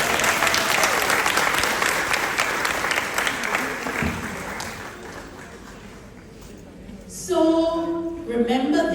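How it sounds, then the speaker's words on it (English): Audience at a prep school graduation in Montego Bay claps loudly for several seconds, then the applause fades out; a voice talks briefly near the end. "Let's give him a round of applause."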